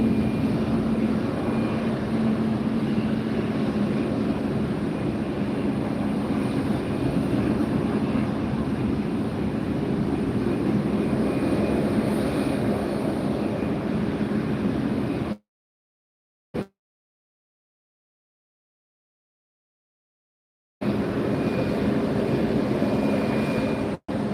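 A JetBlue jet airliner arriving at Fort Lauderdale airport roars in a loud, steady engine rumble for about fifteen seconds, cuts to silence, then returns briefly.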